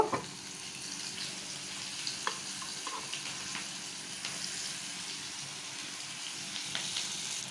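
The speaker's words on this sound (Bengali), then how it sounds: "এখন এই যে আধা পেঁয়াজ কুচিটা ছিল এটাকে দিয়ে দিলাম টমেটোটাকেও দিয়ে দেব" Chopped onion and tomato frying in oil in a pan, a soft steady sizzle with occasional stirring clicks and light spatter, quiet and close, no talking.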